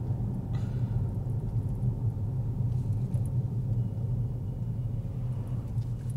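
Low, steady rumble of a big truck idling and rolling on the road nearby, heard from inside a car as a constant deep drone without talk.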